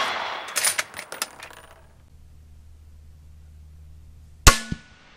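A rifle bullet striking an AR500 steel body armor plate, heard as a single sharp, loud metallic crack with a short ringing tail near the end, after a few earlier clattering impacts and a quiet stretch.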